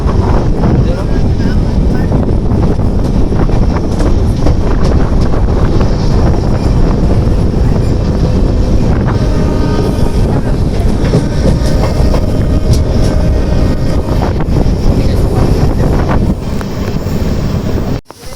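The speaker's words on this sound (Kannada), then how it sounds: "ನೋಡಿ ಎಷ್ಟು ಸ್ಪೀಡಾಗಿ ಹೋಗ್ತೇವೆ ಟ್ರೈನ್" A fast-moving train heard from on board, with a loud, constant roar, rattling wheels and wind rushing past the microphone that stay steady throughout before dropping off abruptly at the end.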